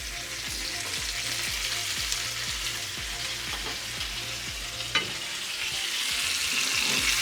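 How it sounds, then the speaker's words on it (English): Beef fillet steak sizzles hard in a pan while it is basted, with rhythmic spoon scrapes and splashes of fat over a continuous crackling fry, fairly close and with no speech. "we're going to baste it again"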